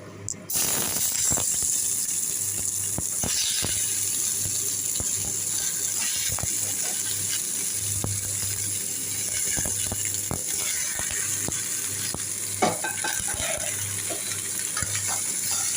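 Tomatoes frying in a little oil for a Bengali tomato chutney, a steady close sizzle with scattered pops and occasional scraping stirs running throughout, no voices.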